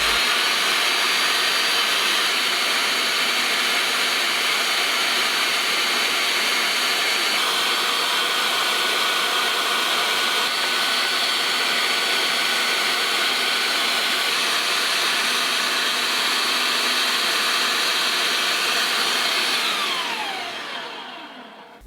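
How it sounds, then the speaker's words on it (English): Electric meat grinder mincing meat for homemade sausage, a steady loud motor whine running continuously with grinding texture, then winding down at the end. "now transfer it to the meat grinder"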